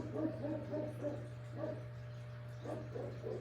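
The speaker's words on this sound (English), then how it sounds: "My Pyrenees is barking, folks." A Great Pyrenees barks at neighbours' dogs outdoors, giving a run of repeated barks in short clusters over a steady low hum, moderately distant and not very loud.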